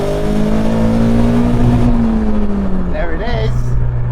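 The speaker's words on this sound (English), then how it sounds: "There's the rev limiter." A Caterham car engine is held at high revs against the rev limiter with a steady droning whine, then the pitch drops away as the throttle is released.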